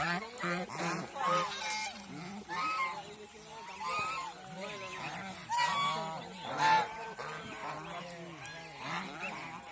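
Domestic geese on a goose farm honk repeatedly and loudly at close range, several birds calling over one another in an uneven, overlapping chorus.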